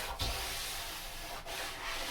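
Sandpaper rubs back and forth over a wooden kitchen worktop, a steady close rasping hiss with brief breaks as the stroke changes direction.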